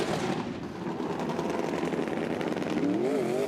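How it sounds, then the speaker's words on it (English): Drift car engine on a wet track at the FIA Motorsport Games 2019 drifting final, a loud, continuous rasping roar with crackling pops, close by and sustained throughout with no talk over it. "But as you see across here, you listen to the engine though."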